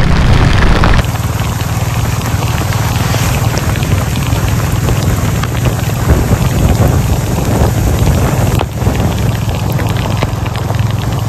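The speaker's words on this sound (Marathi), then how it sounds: "त्या हिशोबाने मजबूत सुरू झाला पाऊस" Heavy rain pours down during a motorbike ride from Mumbai to the Konkan, a dense, loud, continuous roar of rain mixed with wind rush that stays steady throughout with no voices.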